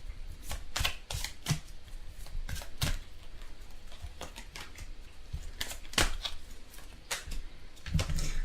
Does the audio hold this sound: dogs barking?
no